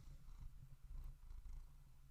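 A cat makes a soft, low murp right into a microphone held close to it indoors. It is very quiet and brief, with faint room noise and no talk.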